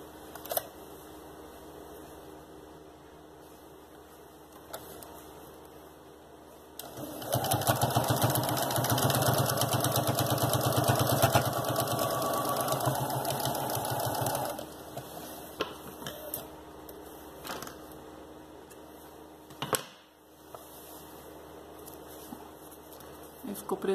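Sewing machine running steadily for about seven seconds while stitching a shoe lining, a loud continuous mechanical whir that starts and stops abruptly, with quieter workshop sounds and brief handling noises around it.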